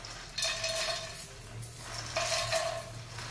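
Fox nuts (phool makhana) fry in ghee in a pan, with a steady soft sizzle and intermittent metallic clinks and scrapes of a spoon stirring against the pan, close and with no talking.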